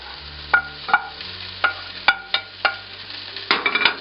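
Vegetables being stir-fried with cooked beef and egg for beef fried rice, a spatula scraping and knocking against the pan in a steady rhythm of about eight strokes over a light sizzle, close and clear, no talking.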